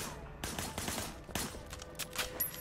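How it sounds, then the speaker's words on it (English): Gunfire in the video game Sleeping Dogs, including shots fired from a car's passenger window, comes as scattered sharp bursts and single cracks at moderate loudness over a busy game background. "Shooting at the guys over there. There was a shooter. Firing shots from the passenger window."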